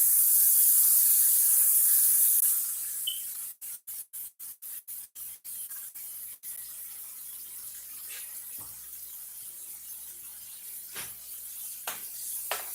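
A spatula rinsed under a running kitchen tap, a strong hiss of water that cuts off and sputters in short bursts, then quiet with occasional faint clatters.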